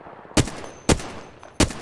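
Three sharp, loud gunshots ring out in an online battle-royale shooter game, evenly spaced about half a second apart, each a crisp broadband crack with a short decaying tail over quiet background.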